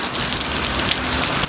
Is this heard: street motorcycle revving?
no